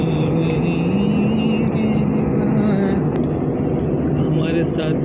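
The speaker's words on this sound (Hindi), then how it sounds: "अभी समंदर के ऊपर ये जहाज़ चल रहा है।" Steady engine hum and cabin rush inside an Air Arabia airliner cruising over the sea, a loud continuous drone with someone talking over it throughout.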